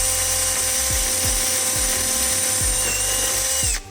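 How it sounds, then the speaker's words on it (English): A power drill reams out the center of a power steering reservoir part on a Coyote-swapped early Ford Bronco, running in a steady close whine with repeated short low thumps as the bit bites, then stopping abruptly. "Now we're just gonna kind of ream out the center of that and not have to disassemble it."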